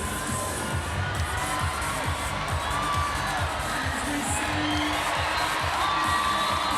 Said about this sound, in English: The crowd really getting behind anyone who can get through these obstacle courses.